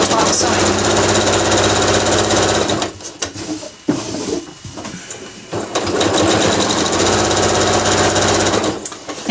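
A sewing machine stitches a drawstring bag in fast, buzzing runs, loud and close, with a brief pause and some handling noise partway through before the steady whir resumes.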